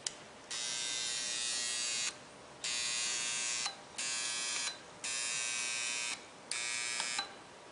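Coil energized with alternating current, a steady electric buzz that switches on and off in several bursts of a few seconds each, with faint quiet gaps between.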